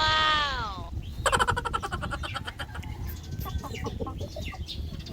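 A Dekalb Brown chicken clucks nearby in a rapid, choppy run of short calls after a brief high chirping opening, with faint background noise underneath.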